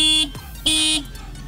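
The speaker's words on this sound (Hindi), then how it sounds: "तो ये देखो ये ड्यूल हॉर्न लगा हुआ है।" A dual horn fitted to a Yamaha R15 V3 motorcycle sounds two loud, buzzy blasts in quick succession, each with a harsh vibrating tone, close to the microphone.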